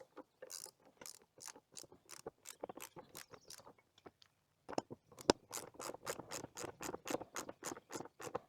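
Bolts tightened with a ratchet while a steel target is assembled, rapid rhythmic clicking strokes in two runs separated by a short pause, close and crisp.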